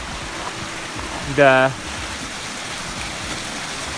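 Steady broadband rush of a waterfall at the end of a hiking trail in Allison Gulch, San Gabriel, California, filling the whole clip at an even level while a voice briefly speaks over it.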